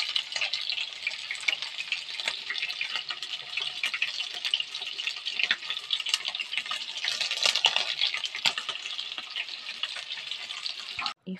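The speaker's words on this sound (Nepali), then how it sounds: "ए चिकन चाहिँ फ्राई हुँदैछ हैन गाइस।" Chicken for chilli chicken fries in a pan with a loud, dense, close sizzle and crackle, accompanied by bursts of stirring, cutting off abruptly at the end.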